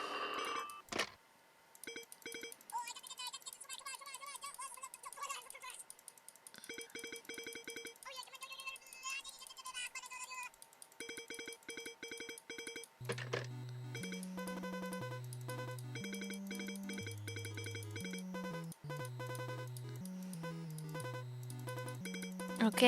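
In a horror video game, a phone rings with a repeating electronic melody of stepped tones, playing clearly for a long stretch after quieter, sparse game sounds and brief murmurs.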